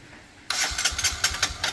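A motorcycle engine said to run on cow urine catches after a brief quiet pause, then runs with a rough, rapid, sputtering beat, loud and close by.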